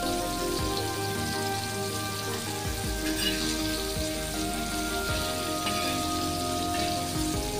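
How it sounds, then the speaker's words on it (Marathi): Tiger prawns frying in a pan, a steady crackling sizzle with dense popping droplets that continues evenly at close range while a faint background hum runs underneath. "दुसऱ्या साईडने आपण फ्राय करूया."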